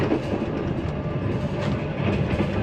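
Pakistan Railways 8DN Tezgam passenger train on the Rawalpindi to Lahore line, a steady close rumble and rattle of coaches rolling over the rails, continuous and loud throughout with no voices.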